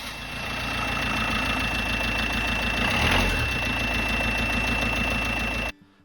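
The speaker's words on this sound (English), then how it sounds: "we can start the van" A van engine, started with a super capacitor jump starter, turns over and settles into a loud, steady idle with a slight knocking rumble, then cuts off abruptly near the end.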